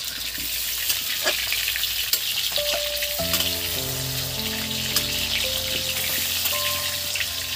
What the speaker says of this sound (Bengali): এই আলুগুলো আমি ভালো করে একদম ভেজে নেব